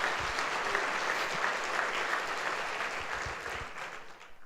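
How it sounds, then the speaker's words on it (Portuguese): A church congregation applauds during a Sunday service, a steady wash of many hands clapping at a moderate distance that keeps going throughout before tapering slightly at the end. "dê aí um aplauso ao Senhor Jesus"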